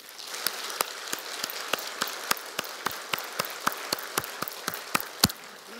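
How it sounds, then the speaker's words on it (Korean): A church congregation at a Sunday service claps together in a steady, evenly spaced rhythm, sharp unison claps repeating about three times a second over a soft room hum. "영광을 돌리는 박수부터 한번 합시다."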